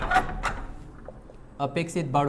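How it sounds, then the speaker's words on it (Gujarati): A door in a classroom swings and knocks shut in the wind, with two sharp bangs near the start followed by someone talking. "પવનના લીધે દરવાજા આવી જાય કરે"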